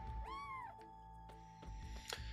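A cat gives one clear, rising-and-falling meow up close, followed by a few small clicks and rustles in an indoor room with a steady faint hum.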